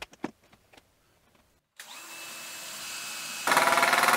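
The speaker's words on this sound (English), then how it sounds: "and then drive the screws." A power drill drives screws into wood while a CNC mill gantry is assembled: a few soft clicks and handling noises, a pause, then a steady motor whine that grows louder and harsher toward the end.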